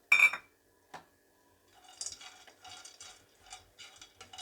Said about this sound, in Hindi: काजू भून लेते हैं अब।